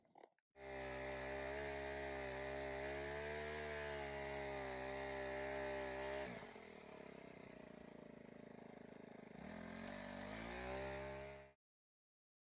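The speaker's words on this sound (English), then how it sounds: "So I use one of these multi-tools. Mine currently is by Ryobi, and I use this tool to get a really good edge before I mow." A Ryobi multi-tool edger edging a lawn: a buzzing small-engine whine runs steadily, sags and roughens partway through as the blade bites, then climbs back before cutting off abruptly.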